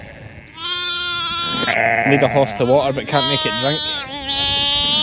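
A distressed ewe bleats loudly and repeatedly for her lamb in a lambing shed, her quavering cries close by and interleaved with a man's speech.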